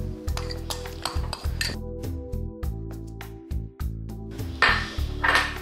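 Finely chopped onion goes into a bowl of mayonnaise and pink sauce mixture, with repeated close clinks and scrapes of a utensil against the bowl in an irregular rhythm.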